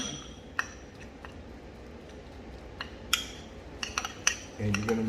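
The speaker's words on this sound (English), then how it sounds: "You're going to chop up the bigger chunks of tuna." A utensil breaking up chunks of tuna in a bowl, with scattered light clinks and taps of metal against the dish, quiet and close.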